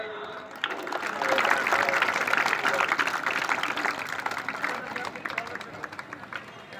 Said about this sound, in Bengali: দুটি দলের জন্যই একবার জোরে হাততালি হয়ে যাক।